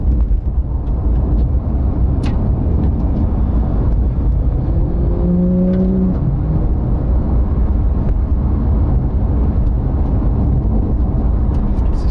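Porsche GT3 with its 4.0 engine driving on a bumpy road, heard from inside as a steady, loud low drone of engine and road noise that holds for the whole stretch without a break.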